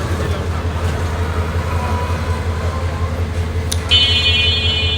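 Diesel locomotive number 2910 idles at Kamalapur railway station in Dhaka, a loud steady engine rumble with a brief high squeal and tone entering near the end.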